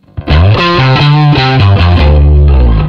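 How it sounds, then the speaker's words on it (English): A distorted Rickenbacker bass guitar, run through an HX Stomp XL distortion, plays a sequence of thick, gritty notes, loud and close, with a fuzzy saturated edge and no voices. "We have our distortion."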